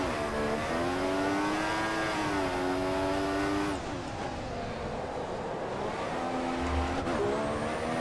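Race car engine in the F1 2014 video game during qualifying at the Russian Grand Prix in Sochi, a loud, steady high-pitched whine that rises and shifts with gear changes, briefly dropping before climbing again.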